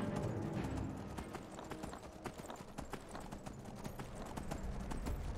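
Horse hooves clop in a quick, steady rhythm as the animal climbs a slope in the fantasy video game Skyrim, loud and close throughout.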